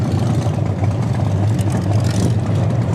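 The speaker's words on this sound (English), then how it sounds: "these dapper riders are today revving their engines" Motorcycle engines rumble and rev together at a Distinguished Gentleman's Ride charity event in Hobart, a loud, continuous low roar with slight surges, no voices over it.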